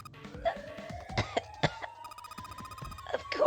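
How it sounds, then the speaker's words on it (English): Clover, a woman in a smoke-filled room in the game 9 Hours 9 Doors, coughs hard in a rapid series of harsh, close bursts over a faint sustained musical tone. "She's coughing so hard she can't talk."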